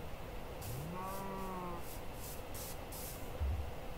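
A blocky cow in the Minecraft modpack Hexxit gives a single drawn-out moo, clear and close over a steady game ambience, followed near the end by a brief low thud.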